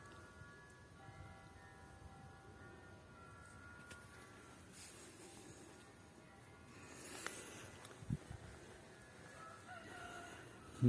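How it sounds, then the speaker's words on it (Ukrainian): Roosters crow in the distance over a quiet outdoor background, with a few faint clucks and a brief louder bump near the end. "Півники співають."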